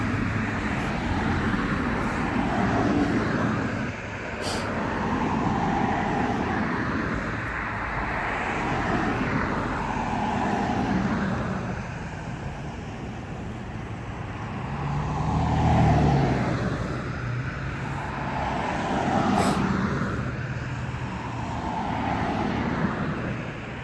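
Continuous traffic on a busy road, cars passing one after another in swelling, fading waves of tire and engine roar, close and loud with no gaps.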